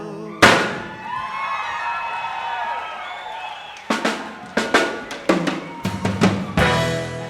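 Starter cannons fire at a 1969 concert at the Fillmore Auditorium: a sharp loud blast, then a ringing decay, followed by a rapid volley of sharp bangs and pops in an irregular cluster.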